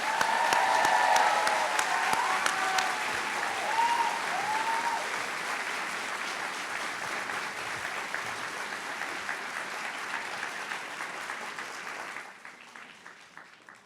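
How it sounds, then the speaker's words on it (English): Audience at a medical school white coat ceremony applauding the students, sustained dense clapping that gradually thins and then drops off sharply near the end, with faint crowd voices. "let's give our students one final round of applause"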